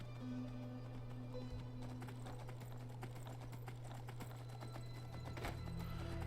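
A horse is ridden in Skyrim, with continuous rhythmic clip-clop of hooves over steady game background ambience, moderately loud throughout.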